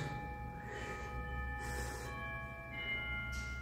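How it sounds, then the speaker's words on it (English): Church bells ring at the Holy Cross Abbey, their sustained, overlapping tones humming faintly and steadily in the distance over low background rumble, with no talking. "Bells are going off."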